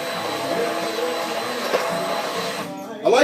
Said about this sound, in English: I like to use an immersion blender.